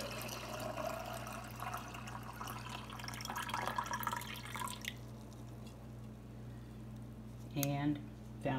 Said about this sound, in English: you just fill your jar with water